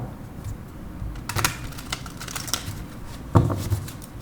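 Tarot cards are drawn and shuffled in soft, irregular riffling and flicking bursts, close and fairly quiet, with a sharper tap partway through.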